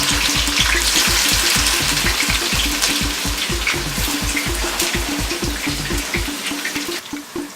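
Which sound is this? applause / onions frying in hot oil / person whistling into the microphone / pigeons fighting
onions frying in hot oil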